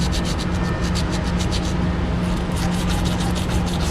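Copper pipe being sanded by hand after brazing, a steady close rasping scrape with rhythmic back-and-forth strokes and a short pause midway, heard alone.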